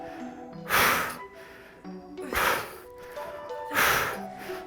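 Heavy, rhythmic breathing after an ab workout, with three strong breaths spaced about a second and a half apart, close and loud over quiet background music.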